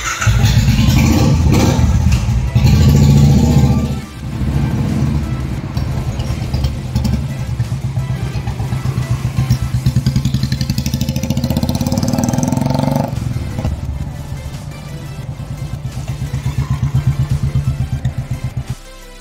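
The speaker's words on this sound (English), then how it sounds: "Time to take a test ride of the bike." A Royal Enfield Classic 350 motorcycle fitted with a camo kit and folding seat revs and rides on a test run, its thumping single-cylinder engine loud and close, rising and falling with throttle before easing off.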